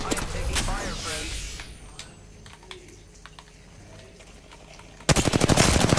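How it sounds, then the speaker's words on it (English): Automatic gunfire in Apex Legends on Xbox One: scattered shots early, then a loud rapid burst in the final second, with game sound effects and voice in between. "I am taking fire, friend."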